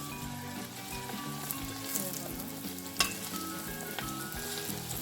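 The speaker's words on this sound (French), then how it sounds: "De l'autre côté, on a nos oignons qui sont déjà bien et on va juste rajouter les crevettes." Shrimp added to already-cooked onions sizzle steadily in a pan, with a few sharp clinks of a utensil stirring through the continuous frying hiss; a faint musical tone sits underneath.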